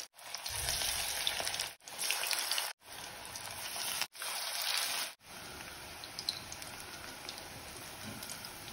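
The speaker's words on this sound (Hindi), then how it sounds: "निकाल के डीप फ्राई करें" Mung dal pakode deep frying in hot oil, a loud, close, dense sizzle that cuts out abruptly several times between bursts, then settles into a softer, steadier bubbling hiss.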